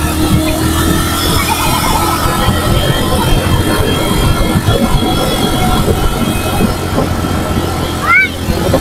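A 125cc motorcycle engine drones loudly and continuously while climbing a steep slope near a river, with heavy wind and road rumble masking detail and a brief chirp near the end.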